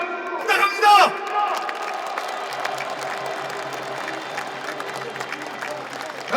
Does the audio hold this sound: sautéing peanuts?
no